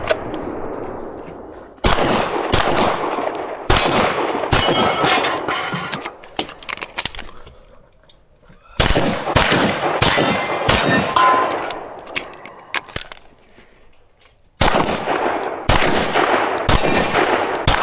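Pistol gunshots ring out on a USPSA Carry Optics stage in rapid bursts of sharp, loud cracks with steel clangs mixed in, broken by brief pauses between strings.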